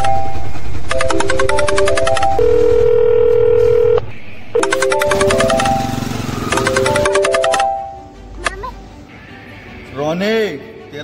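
A phone call being dialed: a rapid series of keypad tones, then a long steady ringback tone and more dialing beeps, loud and close, followed by brief movement sounds.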